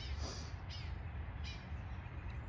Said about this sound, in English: take in the bird sounds, the nature